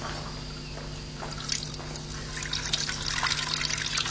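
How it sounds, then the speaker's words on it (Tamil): Tea water being poured from one container into another, a soft continuous trickle with light splashing and dribbling that grows a little busier toward the end, close by with no talking. "இந்த வாட்டரை வந்து இதுல டிரான்ஸ்ஃபர் பண்றோம்."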